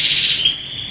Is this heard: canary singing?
yes